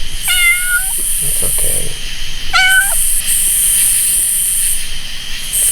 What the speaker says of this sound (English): It's probably somebody's cat, though.